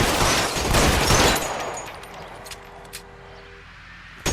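Heavy gunfire from an L.A. Noire shootout, a dense loud burst of overlapping shots for the first second and a half, then sparser scattered shots fading into a quieter tail with one sharp report at the end.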